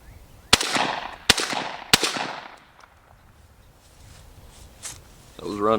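A Mossberg SA-410 semi-auto .410 shotgun fires Remington 3-inch shells outdoors, three loud sharp blasts about a second apart, each trailing off in a ringing echo, followed by quiet and a brief metallic rattle.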